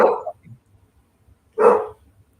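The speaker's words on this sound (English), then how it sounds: "I'm sorry about the dog barking" A dog barks twice indoors, two short sharp barks separated by a pause of over a second, fairly close and loud against a quiet background.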